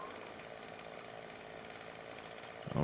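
A chainsaw in the zombie survival game 7 Days to Die runs with a continuous buzzing, rasping motor drone, steady and fairly close, with a louder burst at the very end.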